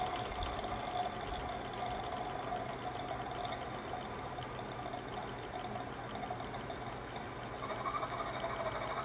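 Stuart S50 steam engine running steadily while its chop pot clears condensate from the mechanism, giving a continuous close hiss and watery churn with a faint mechanical rhythm and a brief louder surge near the end.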